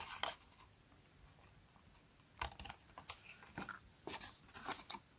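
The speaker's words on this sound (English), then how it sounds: "I'm going to use my scissors here to just finish this up." Scissors trim cardstock for a stamped paper craft, giving a few quiet, crisp snips in quick succession near the end, after a mostly hushed stretch.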